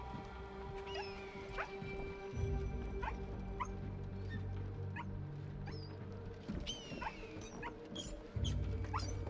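Dog barking in Assassin's Creed Shadows, a run of sharp repeated barks and yips from a single dog, fairly close, over a steady game ambience with occasional thumps.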